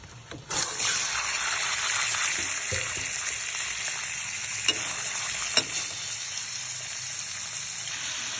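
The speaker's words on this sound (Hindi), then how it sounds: "चिकन को हमने लो फ्लेम पे फ्राई कर लिया है।" Chicken fries in hot oil over a low flame for a karela curry, giving a steady, close, continuous sizzle with a few small pops and clicks and no speech.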